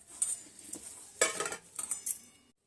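A spoon stirs a spiced filling of pav bhaji masala, amchur powder, salt, turmeric, chilli and coriander in a bowl, giving several scraping clinks in uneven bursts up close, with no talking.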